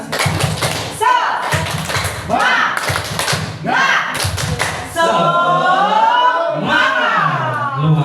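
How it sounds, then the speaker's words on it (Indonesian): A group at a positive-culture dissemination session performs a spirit clap: sharp, rhythmic bursts of clapping in patterned sets, interleaved with loud chanted voices. Clapping drops out near the end, leaving drawn-out group voices. "Tepuk semangat"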